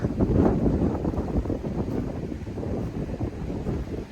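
Strong dry wind buffeting a microphone outdoors, a continuous loud rumbling roar with gusty surges throughout and no voices.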